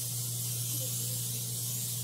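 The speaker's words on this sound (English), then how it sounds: "spraying my fry pan with a little bit of canola oil" Walmart-brand canola oil sprays from a can onto a frying pan in one continuous hiss lasting about two seconds, close and steady, over a faint low hum, no talking.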